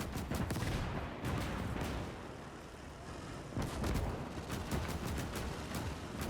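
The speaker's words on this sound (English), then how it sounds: "This could be quite efficient against the enemy targets, this rapid firing guns." Rapid-firing guns in the World War II strategy game Gates of Hell, with Soviet fortress guns defending: dense bursts of gunfire and artillery-like booms layered over continuous battle noise, loud and sustained throughout.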